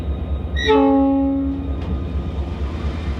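Southern Railway GP30 diesel locomotive sounds its horn once, a loud, near, harmonic blast lasting about a second before fading into the steady low rumble of the train beginning to roll.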